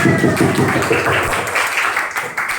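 Applause in a classroom, a dense patter of many hands clapping together for a couple of seconds with mixed voices, gradually thinning out.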